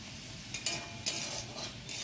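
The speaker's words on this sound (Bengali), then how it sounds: "একটু নেড়ে নেব।" Ground spice paste is stirred into a frying pan for a masala paneer dish: a few short scraping strokes of a spoon over a faint, steady sizzle.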